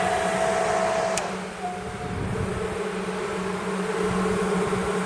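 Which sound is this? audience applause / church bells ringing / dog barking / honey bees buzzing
honey bees buzzing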